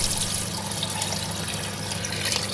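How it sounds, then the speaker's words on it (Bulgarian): Water pours steadily into a pot of pork stew with mushrooms and rice, a continuous rushing splash with no talking. "Изливам цялата вода."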